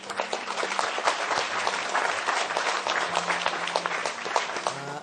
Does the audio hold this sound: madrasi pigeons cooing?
no